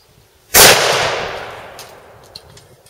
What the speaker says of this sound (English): All right, hairspray bomb, take one.